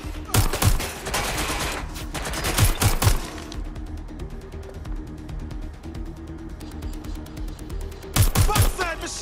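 Bursts of automatic gunfire in Watch Dogs: Legion crackle in two heavy clusters at the start and near the end, with a quieter stretch of droning and faint clicks between them, and voices talking in the mix.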